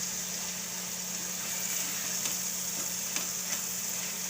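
Spinach and corn vegetable curry stirs and fries in a pan, a steady soft sizzle with light scraping touches running continuously, no voices over it.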